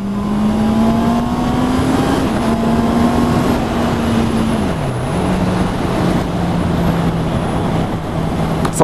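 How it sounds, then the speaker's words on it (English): Loud, steady engine drone of a Honda CB650R four-cylinder motorcycle holding revs around 4,000, with a brief dip in pitch midway before settling, close and continuous with wind rush. "Lovely four pot sound."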